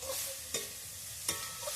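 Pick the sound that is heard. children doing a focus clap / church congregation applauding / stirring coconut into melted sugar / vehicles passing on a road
stirring coconut into melted sugar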